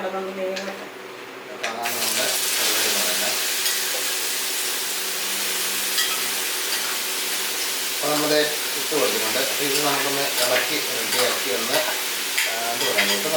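Crushed ivy gourd with mustard seeds fries in a pan with a loud, steady sizzle and hiss that flares as it is stirred, while a person talks over it.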